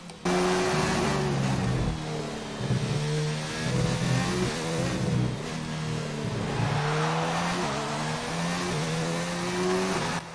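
F1 car engine in the F1 2019 game at Sochi, a loud high-pitched whine climbing and dropping through gear changes and throttle lifts, continuous and close for the whole stretch.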